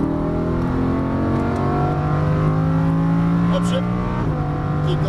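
A loud, continuous Lamborghini Huracan LP610-4 engine drone climbs as the car accelerates, steady for several seconds before a short break near the end, with a voice talking over it.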